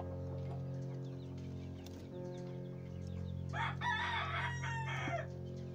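Sultan chickens, an ornamental breed also called serai tavuk, heard in a coop: a rooster crows loudly partway through with scattered clucks around it, set against a steady low mechanical hum.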